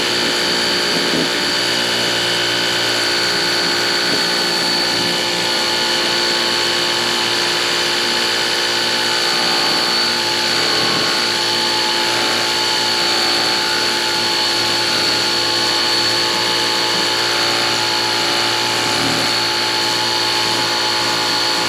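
A Ryobi EZClean power scrubber runs on setting 3, a loud steady motor whine and buzz held continuously close up, with no voices.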